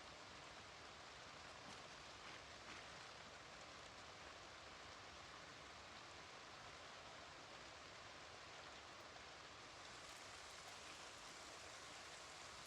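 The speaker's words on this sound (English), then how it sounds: "The weather's not too bad. It's like a light drizzle." Light drizzle falling in the zombie survival game Project Zomboid, a soft, steady hiss of rain that stays even and faint throughout with no voices.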